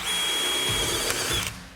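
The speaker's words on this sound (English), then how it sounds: "So I like using the step drill" A brand-new, sharp step drill bores a countersunk bolt hole through sheet metal while rocker guards are fitted to a Jeep YJ; one short, close, loud whining burst that tails off.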